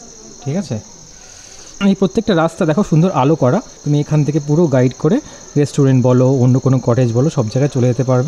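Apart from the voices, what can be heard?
crickets chirping at night in forest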